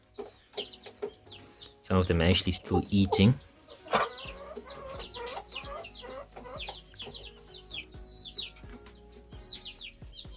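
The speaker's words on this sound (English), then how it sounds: "we have the chickens in here." Chickens cluck and squawk inside a backyard coop on a small farm, with a loud burst of flapping and squawking early on, while someone talks over the birds.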